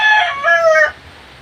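A backyard rooster from Dom bulik gamefowl breeding stock gives one loud, close crow lasting under a second, its voice rising and then holding before it cuts off into quiet.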